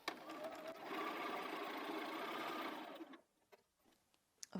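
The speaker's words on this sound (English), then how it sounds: "we're just going to take these to the machine and sew. So I'm just going to sew 1/4 inch." A sewing machine stitching a quarter-inch seam on fabric for a boat block cushion, humming steadily for about three seconds before stopping, followed by faint handling clicks.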